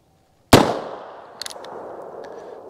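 .22 Magnum CCI Maxi-Mag round fired from a handgun with a 4¾-inch barrel: a single sharp, loud crack followed by a decaying echo and a few faint clicks afterward.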